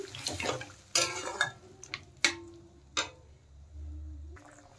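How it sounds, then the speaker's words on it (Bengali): Curry being stirred in a pot after water is added, giving a few wet scraping and splashing strokes with sharp clicks of the spoon against the pot, close by, with a low hum underneath. "জল দেওয়ার পরে এখন একটু নেড়ে দিচ্ছি"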